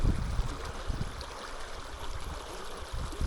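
A swift river current rushes over an uneven riverbed, a steady loud wash of churning water with low rumbling gurgles, close and continuous with no voices.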